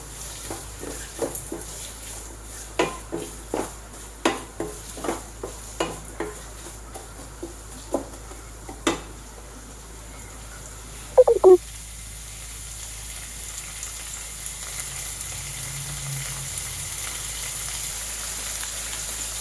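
Onions sauté in a pan with salt, a faint steady sizzle behind a run of sharp spoon knocks and scrapes against the pan that stop halfway, then a short louder clatter and a quieter hiss.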